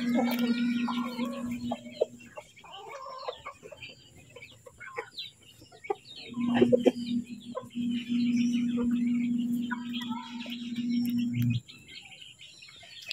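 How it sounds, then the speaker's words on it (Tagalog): Chickens cluck softly while chicks chirp in high, busy peeps, with a steady low hum underneath for long stretches, mid-distance and fairly quiet outdoors. "Ang dami ang sisiw nito."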